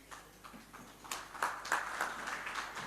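Light applause for Ruth at a foundation launch at Meikles Hotel, scattered claps rising in density and swelling to a fuller patter toward the end, fairly faint and heard from the room.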